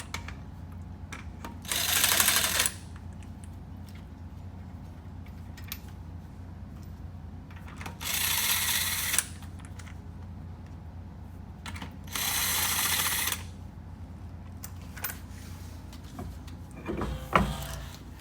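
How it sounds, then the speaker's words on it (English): Front wheels coming off a 1982 Mercedes 380SL: three separate bursts of loud, whirring mechanical ratcheting, each lasting about a second, with a quieter garage background in between and no talking. "Let's take off these front wheels and see what I have in store for me."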